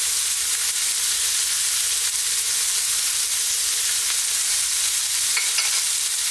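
Thin-sliced boneless, skinless chicken breast stir-fries in a pan over very high heat, with a loud, constant close sizzle and faint scrapes of stirring throughout.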